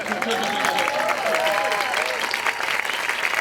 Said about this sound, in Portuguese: eu acho que vocês não aplaudiram suficientemente o que ela falou